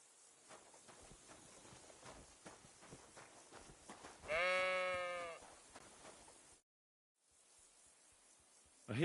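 A single loud, wavering sheep bleat rings out in the Kingdom Come: Deliverance II video game, over a low, quiet background of faint thuds and ambience, then a brief silence before the sound resumes.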